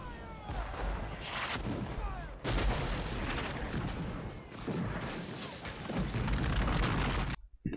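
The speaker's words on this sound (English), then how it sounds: "Cannon fire." Cannon fire from the Civil War film Glory, repeated heavy booms with rumbling tails and scattered crackling musketry, loud and dense, cutting off abruptly at the end.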